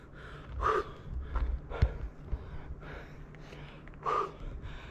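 Heavy, close breathing from an uphill mountain climb in Skagway, Alaska, with strong gasping inhales and exhales at an uneven pace, faint and alone apart from low outdoor rumble.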